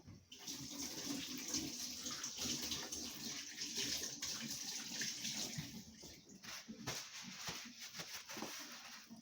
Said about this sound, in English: I am just going to wash my hands